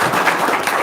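Brief applause from an audience, a short burst of dense clapping at moderate loudness.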